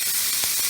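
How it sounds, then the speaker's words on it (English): Bacon sizzles in a pan during a breakfast cooking demo, a steady close hiss with a few brief crackling bursts and no talk. "Oh, you hear that sizzle?"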